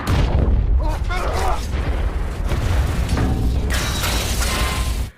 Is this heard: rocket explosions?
yes